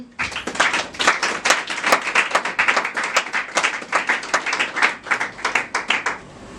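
Church congregation applauding the Lord during a French-language service, a dense run of steady hand clapping from many people that carries on for several seconds and then stops.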